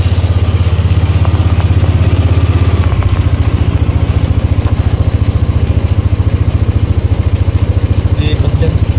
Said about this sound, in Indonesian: Nyala motornya, coba di starter.